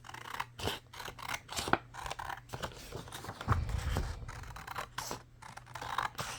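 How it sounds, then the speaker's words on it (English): Repeated crisp snips of Westcott scissors cutting paper, in quick bursts with short pauses, close by and fairly quiet. "I just got these scissors today from Walmart."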